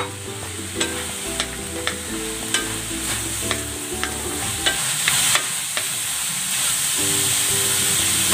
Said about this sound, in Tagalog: Ilalagay ko na itong carrots at ang baggy beans.